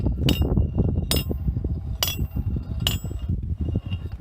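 Ratchet and pawl on a medieval trebuchet windlass being tightened outdoors, four sharp metallic clicks at an even, unhurried pace over a constant low rumble of background noise.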